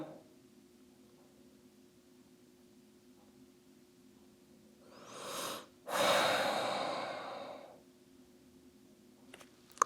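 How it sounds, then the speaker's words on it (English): One deep breath during a vinyasa yoga flow: a slow, rising inhale, a brief pause, then a long, steady exhale, close to the mic and alone against a faint room hum. "A couple more breaths here."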